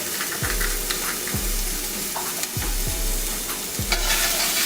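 Shallots and fresh garlic sautéing in a pan for an Italian pantry pasta, a steady close sizzle broken by several low thumps and scrapes as the pan is stirred.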